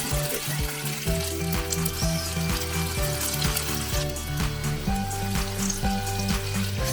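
Green masala shami kebabs shallow frying in a pan give a steady, close sizzle with repeated clinks and taps running over it throughout, no voices present.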